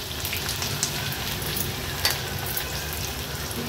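Crushed ginger, garlic and green chili hitting hot oil in a pan, a steady bright sizzle and crackle with small pops, close and continuous, no voices.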